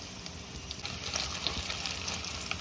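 Cardamom pods and spices frying in hot oil in a pan, giving a steady, close sizzle that carries on alone throughout, with no talking.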